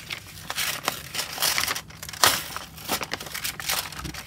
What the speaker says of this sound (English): So I'm going to actually rip that down